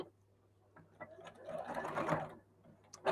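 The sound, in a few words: sewing machine sewing bag fabric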